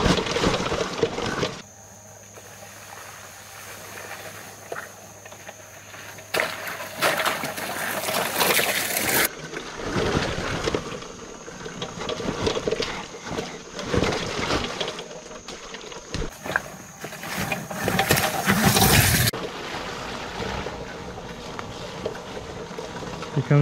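A 72v Talaria Sting electric dirt bike rides hard enduro terrain, its electric whine rising and falling with throttle over steady rolling noise and knocks from rocks and ruts, close by, with no one talking.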